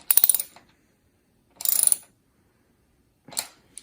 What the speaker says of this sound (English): I had to use this like Allen key adapter piece that goes on the socket wrench. So we'll get that on nice and tight.